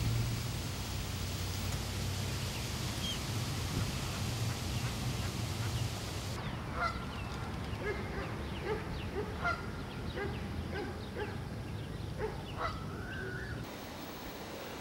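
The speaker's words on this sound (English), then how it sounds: "These are bufflehead ducks." Bufflehead ducks on Horn Pond give a run of short duck calls from the middle onward, heard against a steady wash of outdoor background noise.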